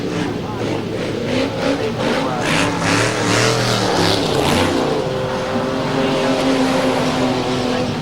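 Super modified race cars lapping a speedway track in 1999, engines roaring and revving in a steady wash of passing-car noise at moderate distance, with a voice talking over it.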